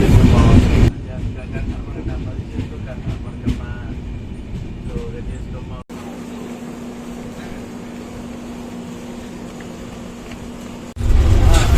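Rumble and rattle of the Prashanti Express pulling away from Penukonda station, with a steady hum and faint clatter; a loud burst of noise opens the scene and another closes it.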